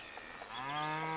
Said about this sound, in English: It looks like we got 1 deer and a cow.